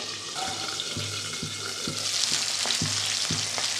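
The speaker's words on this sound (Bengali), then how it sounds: "মাছ ভাজাটা আমার হয়ে গেছে" Boal fish fries in oil with a loud steady sizzle, while a utensil scrapes and stirs the pan in regular strokes about every half second.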